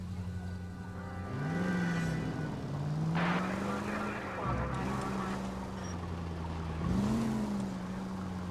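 A car engine in the LA Noire video game drones steadily, its pitch rising and falling as it accelerates and shifts across several swells, with scattered thumps and clatter over the top.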